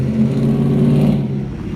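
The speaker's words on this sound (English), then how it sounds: "Excuse the loud exhaust." Loud car exhaust rumbling and droning close by in a steady low revving tone that eases off slightly near the end, with no one speaking.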